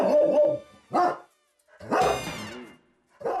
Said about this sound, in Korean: 그런데 느닷없이 짖기 시작하는 녀석.